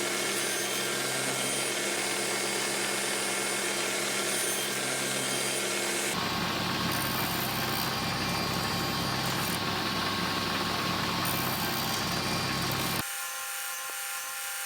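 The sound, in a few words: table saw with sled cutting hardwood tenon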